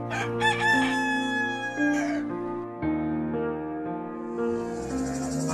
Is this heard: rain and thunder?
no